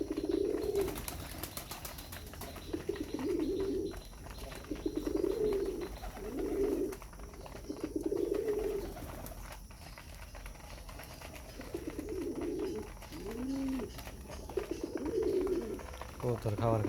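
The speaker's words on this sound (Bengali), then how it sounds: "কবুতর খাবার খাচ্ছে" Red pigeons coo as they eat their morning feed. Soft, low throaty calls come in repeated bursts with short pauses between them, nearby and fairly quiet, with faint ambient noise.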